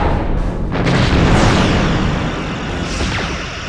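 Rear torpedoes firing from a starship in Star Trek Bridge Commander: a loud deep boom with a rushing whoosh that swells in the first second, then rolls on and slowly fades.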